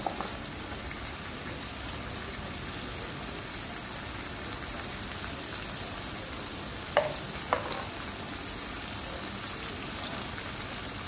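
Beef frying in a pan with salt, turmeric and chili powder gives a steady, close, even sizzle that runs throughout, with two faint clicks near the end and no voices.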